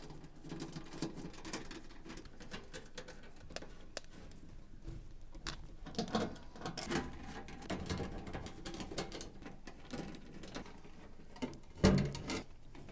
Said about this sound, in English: remove all of the screws around the bottom back panel with your Torx T20 screwdriver